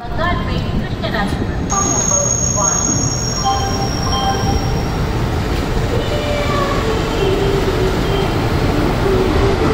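A passenger train on the Chamarajanagara to Tirupati route rumbles steadily along the rails throughout, with a constant low roar and faint high metallic tones from the wheels, loud and close.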